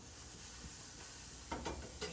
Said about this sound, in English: They sizzle like a regular burger.